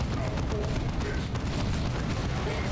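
Explosions and heavy booms from the real-time strategy game Warhammer 40K: Dawn of War 2 Retribution with Space Marines, a dense continuous barrage of low rumbling blasts filling the battle soundscape.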